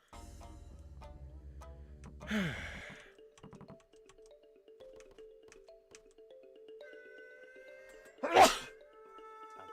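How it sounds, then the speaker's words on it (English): Two sharp human sneezes several seconds apart, heard over faint electronic game sounds and a soft background hum. "Goddamn sneeze."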